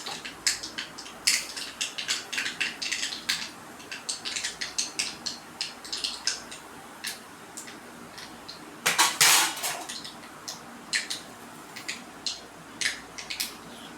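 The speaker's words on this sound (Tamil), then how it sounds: "நம்ம கடுகு போட்டாலே அது நல்லா பொரியுது பாருங்கள்" Mustard seeds splutter in hot oil in a pan for a Tamil potato fry. Quick, sharp pops crackle irregularly throughout, with one denser burst partway through and no talking.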